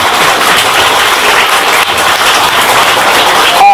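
An audience at a school poetry gathering, a mushaira and kavi sammelan, bursts into loud, sustained applause that holds as an even roar the whole time.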